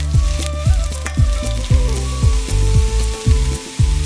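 Red onions, curry leaves and cinnamon fry in a pan with a loud, close sizzle, over a rhythmic series of regular thumps, about two per second, throughout.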